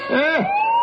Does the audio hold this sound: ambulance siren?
yes